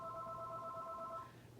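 A telephone rings faintly with an electronic warble in one long burst that cuts off just before the end, heard alone against a quiet room.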